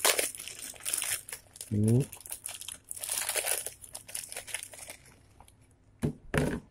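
An instant noodle packet is torn open in bursts of sharp plastic crinkling and crackling at close range, with a brief spoken word and a few pauses between rustles.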